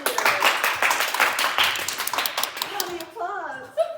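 Audience applause for a speaker at the Park City Library, as brisk clapping from a room of listeners that fades out after about three seconds, followed by a voice beginning to talk.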